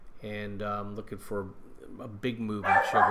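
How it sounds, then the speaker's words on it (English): Dogs bark and yip repeatedly in short bursts close by, overlapping someone talking at the same time. "Oh, sorry about the dogs."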